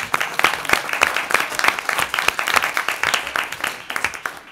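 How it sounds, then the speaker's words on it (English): A meeting room of a community college board of governors gives a round of applause, a moderate crowd clapping with distinct sharp claps in an uneven rhythm, close and steady until the end. "we want to at least give him a round of applause"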